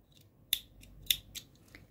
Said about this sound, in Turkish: tarçın ipimi kesiyorum